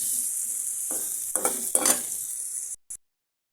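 Prawn bhuna sizzling loudly in a pan, a steady bright frying hiss with a few bursts of stirring scrapes, cutting off abruptly near the end.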